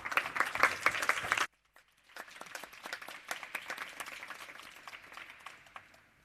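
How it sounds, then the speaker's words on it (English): At a lecture masterclass, dense clapping cuts off abruptly, then after a short gap smaller, sparser applause from the audience resumes at a moderate level and tapers. "we should give her a round of applause."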